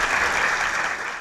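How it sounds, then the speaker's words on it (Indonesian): A TV studio audience applauds a village honoured for its bamboo bicycle design, the clapping steady, dense and close, filling the whole brief moment without any talk. "Tepuk tangan untuk Desa Kandangan"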